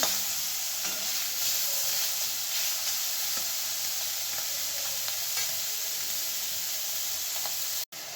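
Fish lightly frying in a pan: a steady, even sizzle and hiss close by that holds throughout, with an occasional soft stir, then a brief dropout near the end.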